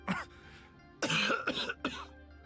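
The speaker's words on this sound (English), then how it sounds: "That cough sounded real." A short cough from Baizhu in Genshin Impact, a pause, then three harsh coughs in quick succession, close and fairly loud.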